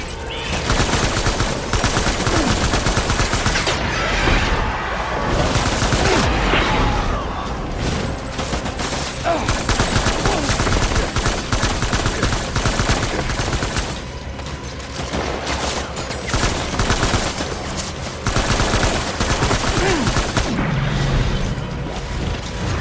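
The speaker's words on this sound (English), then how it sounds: "Open fire." Dense, sustained gunfire in the video game Death Stranding, with rapid automatic bursts and heavy booms piling into a loud, continuous barrage that dips only briefly before resuming.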